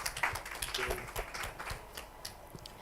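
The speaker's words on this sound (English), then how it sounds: "a big round of applause again for the speakers" Light, sparse clapping from a workshop audience thanking the speakers, the claps sharp and uneven rather than a full ovation, moderately near and fairly quiet.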